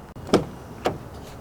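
Two short mechanical clunks from the seat of a 2023 Toyota Tacoma TRD Sport being pulled forward, spaced about half a second apart and fairly close.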